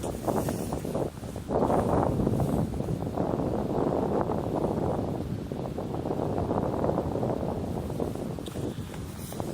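Strong wind buffets a microphone outdoors on a Norwegian night, a loud, continuous rumbling roar with gusty swells and no voices.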